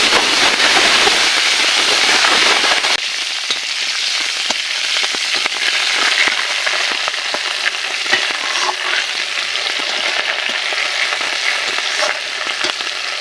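Green chilies hitting hot oil with a loud initial spitting hiss that settles into a steady, crackly frying sizzle, with occasional stirring scrapes, close and continuous.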